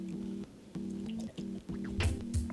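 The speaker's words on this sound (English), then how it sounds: "let me drink some water here." A person drinks water in a few quick gulps, close and moderately quiet, the swallowing sounds broken by short pauses and ending in a wet splash-like squish, with no talk.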